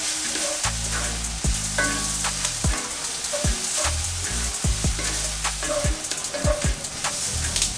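Steady frying sizzle with scattered sharp pops and crackles as rice toasts with onions in a pan for arancini, plus low scraping stirring sounds from a spoon, close by with no talk.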